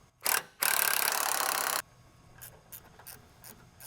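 A ratchet removes the 8mm bolts from an intercooler shutter on a modular bumper. It makes a short burst of rapid clicking, then a longer continuous ratcheting run, followed by several softer, brief clicks and handling noises nearby.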